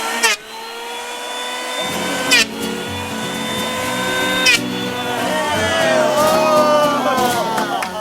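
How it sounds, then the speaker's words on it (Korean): Electric saw cutting timber at a mud house building school, a loud whining motor that starts, bites and revs in several bursts, climbing in pitch under load, heard up close in an outdoor work setting. "막내가 이젠 전기톱질도 척척"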